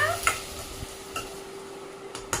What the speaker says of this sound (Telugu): ఇవైతే బాగా ఇట్లా రోస్ట్ అయితే అవ్వాలి